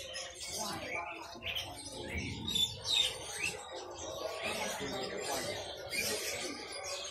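Small birds chirping and tweeting at a busy Indonesian bird market with parakeets and other caged songbirds, a dense chorus of overlapping calls with people talking nearby.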